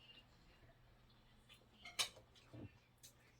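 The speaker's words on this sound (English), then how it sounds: "I am mixing everything, the mango, so with that sweetness and with the pepper" Utensils clink and scrape against a bowl while mango salsa with pepper is stirred, a few sparse, quiet metallic taps over a faint low hum with no talking.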